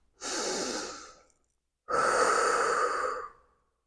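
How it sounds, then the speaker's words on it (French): Two long, deliberately amplified breaths as part of a breathing exercise, each a loud, airy rush lasting about a second and a half, separated by a short silence, close and alone with no speech. "on amplifie un peu notre respiration pour pouvoir l'entendre."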